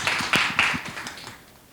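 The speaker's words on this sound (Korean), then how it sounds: "박수 부탁드립니다" Audience applause at a Korean data-policy talk event: a short burst of sharp claps from a small crowd, loud at first and tapering away within two seconds.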